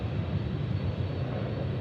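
An Embraer 145 regional airliner departing an airport for Houston, its engine roar steady and continuous throughout, a broad sustained rumble with no voices.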